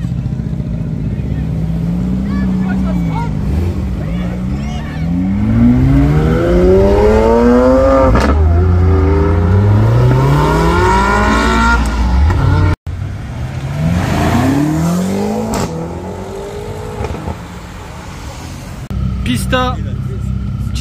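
A Mercedes C63 pulls away hard at a Cars&Coffee meet in Luxembourg. Its engine note climbs through rising revs and gear changes and stays loud and near for most of the clip, with crowd chatter around it.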